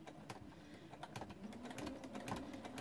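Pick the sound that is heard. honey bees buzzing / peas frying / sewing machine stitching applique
sewing machine stitching applique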